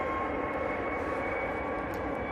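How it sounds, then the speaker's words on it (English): A Ryanair Boeing 737 MAX 8-200 departing Manchester Airport for Copenhagen gives a steady, loud, broad jet engine roar that holds evenly throughout with no speech. "Right, we got this Ryanair 737 8-200. Max, it's a Max. Going out."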